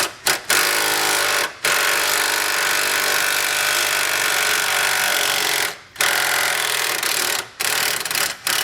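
A power tool spinning a 13mm socket to remove a cup on a 2018 Ford truck, a loud, continuous buzzing rattle in several long bursts separated by brief pauses, close up with no talking.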